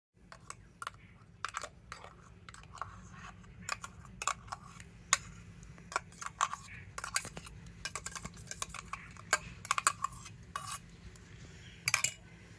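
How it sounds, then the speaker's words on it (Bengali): Batter for a mango pitha being whisked in a bowl with mango pulp, giving quick irregular clinks and taps of a utensil against the bowl over a low background hum. "তো আমের পাল্প দিয়ে আবার একটু ভালো করে ফেটিয়ে নেব।"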